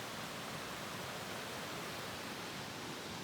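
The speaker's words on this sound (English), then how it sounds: "There's the creek." A creek flowing outdoors makes a constant, dense rushing hiss of moving water, steady and unbroken throughout.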